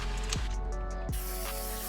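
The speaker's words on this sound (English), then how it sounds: "grab your cleaning solution and spray liberally onto the seats" Cleaning solution is sprayed liberally onto car seats, two sharp hissing trigger-sprayer bursts about a second apart, close and clear over a constant low hum.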